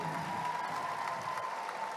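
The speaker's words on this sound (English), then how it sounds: "How about a round of applause for all of our dancers?" Audience at a wacipi dance exhibition in a mall gives dancers a round of applause, a moderate, steady patter of clapping with a faint tone running underneath.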